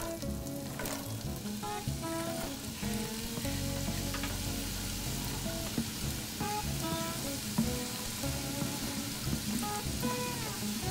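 Bell peppers, onions and garlic sizzle and fry in melted fat in a pan, a dense continuous crackle with scattered pops and occasional scraping stirs, close and steady throughout.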